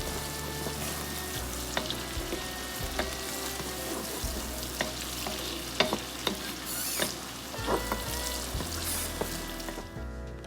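Mixed corn, beans and carrots stir-fry in a pan for egg fried rice, giving a steady sizzle with repeated scraping and clacking from stirring, up close.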